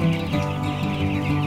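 Chickens clucking on a farm where they are being raised alongside ducks, a steady close murmur of soft clucks and calls with no talking.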